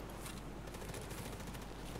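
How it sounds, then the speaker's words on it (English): Gunfire in the video game Escape From Tarkov, a dense, steady burst of rapid shots at moderate loudness running through the whole two seconds without a break. "People are still firing."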